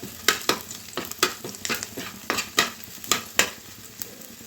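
Garlic frying in a pan, a soft background sizzle broken by about a dozen sharp, close scraping strokes from a spatula in an uneven rhythm; no voices.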